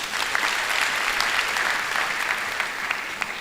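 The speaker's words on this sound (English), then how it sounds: "Can we give Professor Teke a big round of applause?" Sustained, dense applause from a large graduation ceremony audience honoring Professor Teke, a steady roar of many hands clapping for several seconds without voices.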